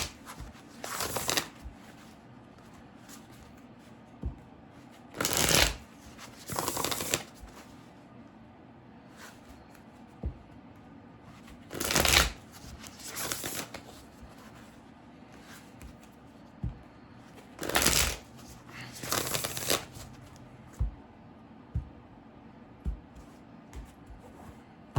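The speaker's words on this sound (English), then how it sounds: "we're going to pull a card because we're in Halloween month" Tarot cards with horror-movie artwork are shuffled in a series of short, crisp riffling bursts, each ending in a soft snap, coming about every few seconds with no talking.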